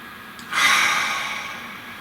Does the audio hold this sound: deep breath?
yes